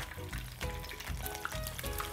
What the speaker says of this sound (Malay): Terus saja kita gorengkan ayam ni.